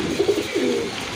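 Pigeon cooing close by as a Jacobin pigeon is held in hand, a few soft, low throaty coos rising and falling in short pulses.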